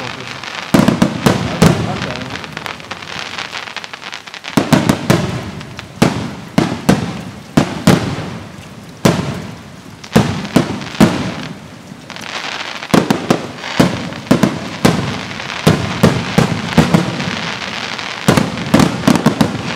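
A 2009 fireworks display bursts overhead in loud rapid volleys of crackling explosions with brief pauses between salvos, while spectators talk and exclaim nearby.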